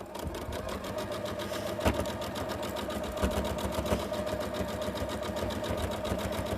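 A sewing machine stitches a quilt seam up close with a steady, fast mechanical whir and rapid needle ticks, plus a couple of small clunks along the way.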